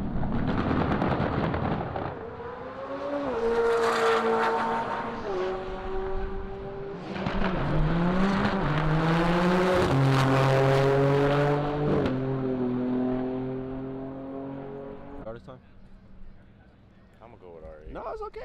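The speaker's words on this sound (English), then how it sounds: "We got a GTR and an R8 up here." Cars, a Nissan GT-R and an Audi R8 among them, rev hard and race off at a Texas car meet, loud rising engine tones and gear changes close by, with crowd voices over them.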